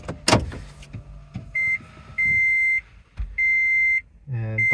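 A Toyota Prius plug-in with an upgraded Nexcell lithium battery powers on with several steady electronic beeps of varying length, mixed with clicks and a low mechanical hum.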